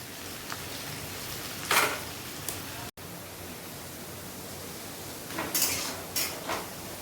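Sliced onions frying in a pan for chicken biryani: a steady, hissing sizzle throughout, with a few clinks of a utensil against the pan, no speech.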